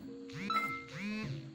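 A single gamelan gong struck once, its low hum and shimmering overtones ringing briefly and fairly softly.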